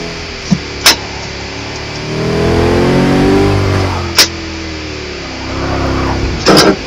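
A powerful car in the racing game Forza Motorsport 6 revs loudly, its engine rising and falling in two long surges, with a few sharp clicks scattered between them.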